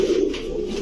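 A male pigeon gives a short, soft, throaty coo close by, lasting under a second and heard alone.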